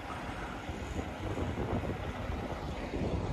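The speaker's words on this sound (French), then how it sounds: "Il y a un peu de vent là, il fait froid." Cold outdoor wind blows in a snowy setting, a steady, loud rumbling buffet of gusts against the microphone that lasts the whole time, with no voices.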